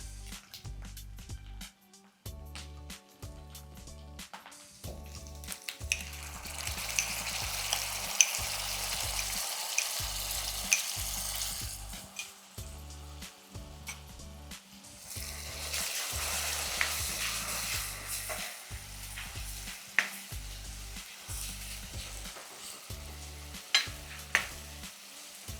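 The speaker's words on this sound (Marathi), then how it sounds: "आता आपण ह्याच्यामध्ये टोमॅटो टाकून घेऊया." Tomatoes fry in a pan with a sustained sizzle that swells twice as they are stirred, along with scraping and stirring clatter near the mic and short pauses between strokes, with no talking.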